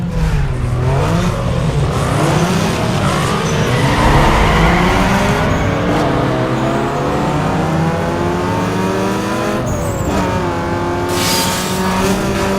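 Engines rev and race in the video game Need For Speed Underground 2, with steady loud revving, rising and falling gear-shift sweeps, and brief tire squeals, alone without talk.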